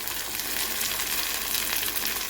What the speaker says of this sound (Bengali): পেঁয়াজ আর টমেটো ভাজা হচ্ছে